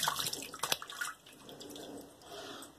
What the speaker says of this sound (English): let me rinse that and I'll be right back